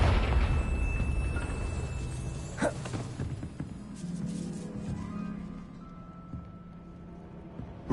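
A blast from the Confringo fire spell in Hogwarts Legacy on PS5, a muffled boom and crackling burst followed by a fading rumble and soft game ambience.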